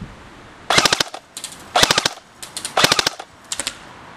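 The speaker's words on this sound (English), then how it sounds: "Triple fire, which basically I think is 4." Outdoors, an ICS MX5 PRO airsoft gun fires short bursts on its triple-fire setting, four quick rattling groups of several sharp cracks each, spaced about a second apart.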